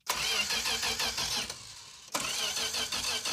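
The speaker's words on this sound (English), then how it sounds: "Oh yeah, this runs. That sounds like a perfect slant 6 to me." Slant six engine in a Dodge Duster cranking and catching, a loud close rumble that dips briefly and then fires up again into a steady running roar.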